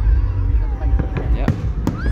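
Fireworks exploding at a Runcorn and Widnes display: a dense, continuous low booming with several sharp crackling bursts in quick succession, plus a rising whistle near the end.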